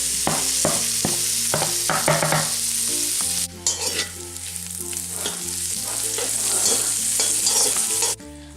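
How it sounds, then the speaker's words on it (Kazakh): Chopped internal fat fries loudly in a kazan, giving a dense close sizzle with a brief pause partway through and repeated scraping and stirring clatters from a utensil against the pot. "Қазанға іш майдың барлығын салып қуырамыз."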